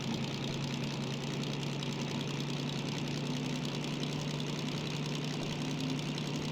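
A DM3 diesel locomotive idles in Derail Valley, a steady low throbbing engine hum with faint knocking, constant and unbroken for the whole stretch, with no one talking.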